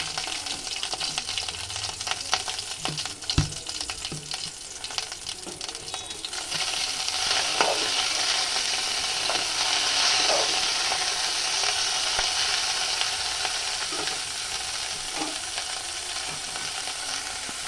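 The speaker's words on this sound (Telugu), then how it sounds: "ఇందాక పచ్చిమిరపకాయలు నూనెలో వేయించుకున్నాం కదా, దాంట్లోనే కొంచెం పుదీనా వేసి వేయించుకోవాలి" Mint leaves frying in oil together with already-fried green chillies for tamarind thokku: a steady, close sizzle that swells louder partway through, with scattered light clicks from stirring.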